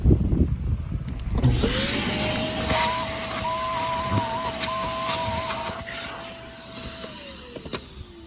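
A Bissell bagless vacuum cleaner, clogged, whines steadily at close range, its motor pitch rising as it starts and dropping as it shuts off, amid some clatter.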